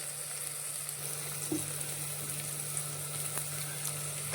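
Red masala and ground paste of ginger, garlic, chilli, coriander and tomato fry in a pan for a mushroom chana dal, giving a soft, steady sizzle with a few faint stirring scrapes and no voices.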